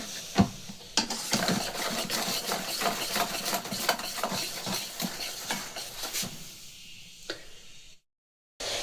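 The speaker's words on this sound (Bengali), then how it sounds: "এবার এটাকে আরেকবার সব ভালো করে মিশিয়ে নেব।" Orange cake batter is stirred in a bowl with rapid, repeated scraping and tapping strokes. The sound is close and steady, then a short pause and a brief silence come at the end.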